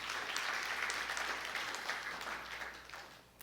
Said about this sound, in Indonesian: Tepuk tangan untuk nama Tuhan.